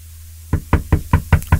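Six firm, evenly spaced knocks on a door ring out loud and close after a brief quiet stretch, each a solid hollow thump.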